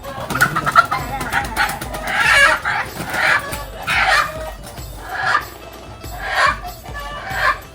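A village rooster clucks in short, repeated bursts close by, the calls spaced a second or so apart over faint background noise.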